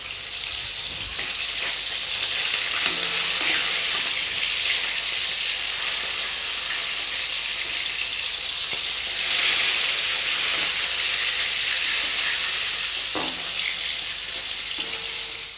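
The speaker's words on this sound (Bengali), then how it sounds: "মাছগুলো ভেজে নেব" Rohu fish fry in oil, sizzling and crackling continuously in a steady, loud hiss, with occasional soft clinks of a utensil, and no voices.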